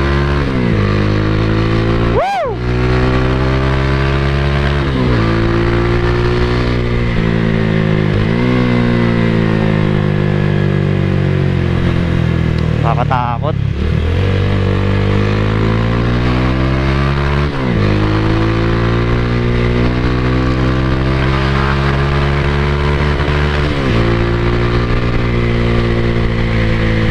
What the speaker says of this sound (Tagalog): Testingin natin yung lakas ng motor natin.